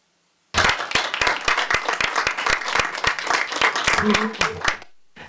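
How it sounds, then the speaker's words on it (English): Audience applause fills a school board meeting, a dense burst of clapping that starts abruptly, holds steady for about four seconds, then stops, with a few murmuring voices underneath. "let's give the board a round of applause"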